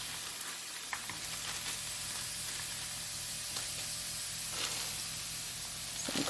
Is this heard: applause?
no